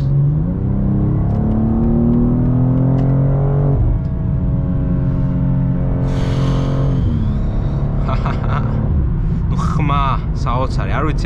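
A BMW M2 engine climbs through the revs on an unrestricted German autobahn, rising in pitch, dropping at gear changes and surging again in a loud, close in-car drone, with a person talking over it.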